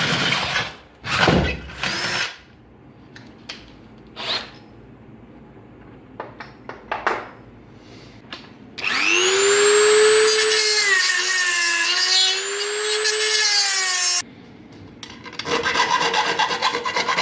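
A Dremel rotary tool cuts out metal parts for a cheap spot welder: scattered scraping touches first, then a loud, close, sustained high grinding whine for about five seconds before it stops, with no talking.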